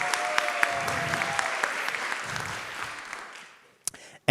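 At a hackathon's final presentations, the crowd applauds a standing team with steady clapping that thins out and fades to near silence, then a couple of sharp knocks sound at the end.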